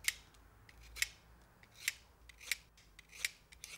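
A knife whittles wood to sharpen a pencil, giving a series of crisp, quiet scraping cuts spaced about every half second to second, close and isolated in a calm room.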